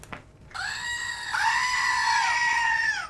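A goat sound effect: a loud, nasal bleat with a sustained wavering cry that rises into a second, stronger bleat, heard alone with no talk.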